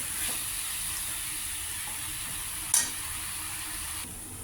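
Ponnaganti greens and soaked split moong dal fry in a pan, a steady close sizzle and hiss with one brief louder clatter of stirring midway and the sizzle easing near the end; no voices.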